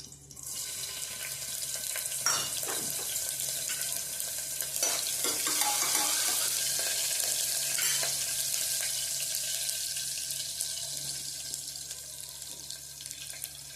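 Curry leaves crackle and sizzle in hot oil in a pan, a steady close frying hiss with sharp pops and bursts, as chilies are added during cooking of a fasting-style moraiya and potato khichdi.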